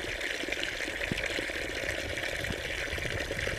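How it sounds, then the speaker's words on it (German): A small mountain brook flows during a snowy winter snowshoe hike around Bellwald, giving a steady, soft trickling and gurgling wash of water, faint and continuous with no talk over it. "Hier ein kleiner Bach."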